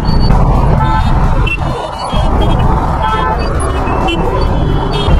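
Dense traffic jammed on a road in Udaipur, with engines running close by and short car horn toots sounding over the steady roar.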